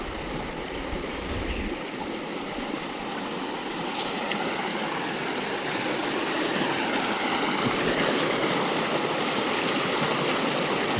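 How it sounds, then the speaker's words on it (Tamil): Water rushes and burbles steadily nearby in a rocky stream at night near Kasipalayam dam, Sathyamangalam, a continuous broadband flow with no voices. "இப்போ தண்ணி சவுண்டுக்கு உங்களுக்கு எவ்வளோ தூரம் கேட்குன்னு தெரில"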